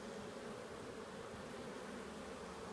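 Honeybees drone in an open hive, a soft, continuous low buzz with no breaks.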